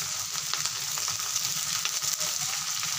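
Shredded cabbage frying with potatoes in a pan gives a continuous close sizzle with light crackles and occasional stirring clicks, no voices over it.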